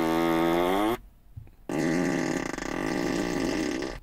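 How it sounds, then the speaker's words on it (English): A Tesla Model S plays a synthetic fart sound through its speakers as a prank, two long buzzing, pitch-shifting blasts separated by a short pause, loud and close inside the car cabin. "You can play fart noises on different seats."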